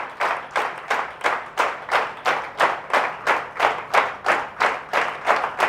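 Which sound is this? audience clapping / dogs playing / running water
audience clapping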